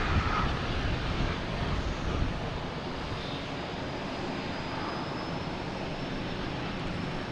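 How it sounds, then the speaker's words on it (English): An American Airlines airliner arrives at Boston Logan from Charlotte. Its engines make a steady jet rumble with some wind noise, a little louder at first and then holding level, with no voices. "We have American Airlines coming in from Charlotte"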